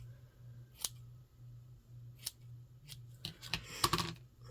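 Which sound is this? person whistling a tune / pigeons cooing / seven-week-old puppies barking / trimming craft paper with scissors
trimming craft paper with scissors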